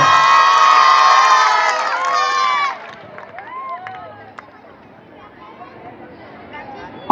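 A school audience applauds and cheers at a school function: children shout and whoop loudly for under three seconds, then the crowd noise drops to a quieter murmur.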